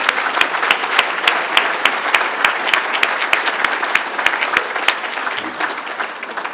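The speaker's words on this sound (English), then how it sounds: "So I want us all to just start by giving a round of applause to Yogi." An audience in a room gives a round of applause, a dense, even patter of many hands clapping close by, steady throughout and alone without talk.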